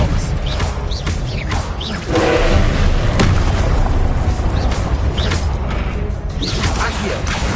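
Expelliarmus spell effects from a Harry Potter wizard video game: a string of loud booming impacts, whooshes and crashes over dense game noise, with a voice talking through it.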